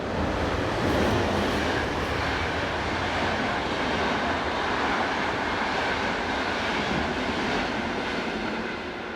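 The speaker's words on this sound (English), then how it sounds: "1116191 heads west with empty stock bound for Villach" Austrian locomotive 1116 191 hauls empty stock westward, a steady broadband rush of wheels and passing train noise that holds at moderate level from a distance and eases slightly at the end.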